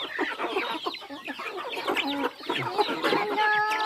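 Chickens cluck continuously in a busy, close flock, with overlapping chatter and a few higher calls near the end.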